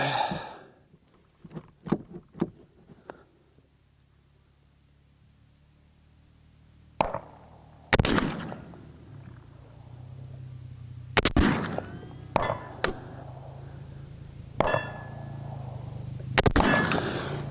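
Three sharp gunshots from a Hoffman Tactical Orca ring out several seconds apart, loud and close, each with a crisp metallic crack and short echo, followed by faint handling clicks and a quiet background hum.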